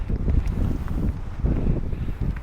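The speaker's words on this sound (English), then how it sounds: "I don't know if you can hear this, but yeah, the wind's blowing." Gusty wind on a high mountain peak buffets the microphone with a steady low roar and rumble, loud and close throughout, with no voices.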